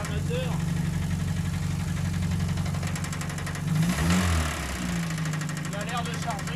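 A Renault Estafette van engine idles with a steady, low rumble, overlaid by a fine ticking clack that appears to come from the front. The engine briefly swells and falls, and someone talks over it.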